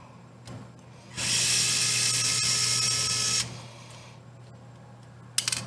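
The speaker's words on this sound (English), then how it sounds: "I'm going to take these battery screws off." A small powered screwdriver whirs steadily for about two seconds while backing out battery screws on a TRX-4M RC truck, then stops, followed by a brief clatter.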